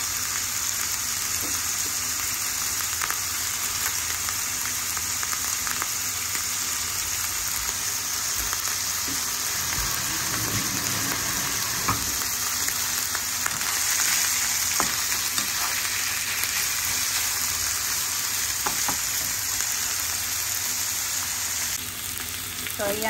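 Onion fries in a pan for a green papaya dish, giving a steady, dense sizzle that runs close and constant with occasional stirring scrapes. Nobody speaks.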